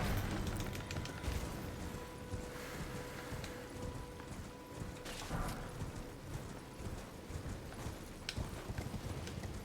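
A horse gallops in Elden Ring, its rapid clip-clop hoofbeats steady and continuous amid game combat noise, loud and dense throughout with no talk.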